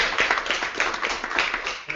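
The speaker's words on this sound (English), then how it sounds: "So I think we should give all the kind of participants here another round of applause." Steady round of applause from an event audience, dense overlapping claps filling the whole stretch at moderate distance with a faint voice or two mixed in.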